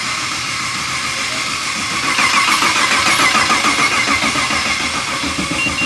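An LS3 V8 swapped into a BMW E46 cranks and runs for its first start, a loud, steady, close rumble that swells slightly partway through with no talking.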